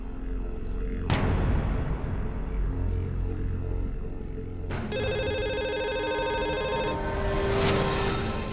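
A phone rings out during a call in a Hindi TV drama, with a burst of dramatic music stings before a repeating electronic ringback tone pulses steadily and loudly over a low rumble.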